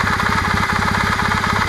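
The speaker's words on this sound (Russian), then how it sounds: "Этот стук, который сейчас остался, он незначительный, с ним ездить можно." Kawasaki W650 air-cooled motorcycle engine idling with a light, steady mechanical knock from a worn camshaft gear, a loud, close and continuous rhythmic ticking over the engine drone.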